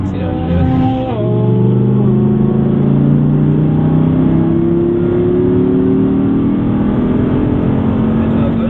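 A 525 hp Audi R8 V10 accelerating on the Issoire race circuit, its loud engine note rising steadily in pitch through a long, sustained pull, heard from close by with faint talk inside the car.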